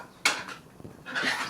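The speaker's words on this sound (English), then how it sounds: "I'm going to just crack this into a bowl" Buckwheat porridge with beef from an Estonian military MRE pouch is tipped into a dish, giving a bright clink of the container against it and then a longer scraping rattle, close and quiet, with nobody talking.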